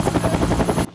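Helicopter in a Telugu film scene: loud, close rotor chopping with a steady rapid beat and engine whine for about a second before cutting off abruptly.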